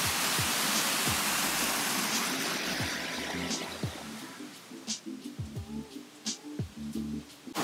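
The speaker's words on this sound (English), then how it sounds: "where you can hear the waterfalls behind me" A rushing waterfall roars as a broad, steady hiss that gradually fades, with scattered taps and knocks nearby.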